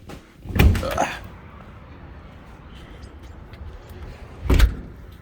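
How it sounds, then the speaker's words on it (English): A heavy metal door clunks and rattles open close by, then after a quiet pause another loud bang sounds as it shuts or hits something. "I'm going to go ahead and open the door."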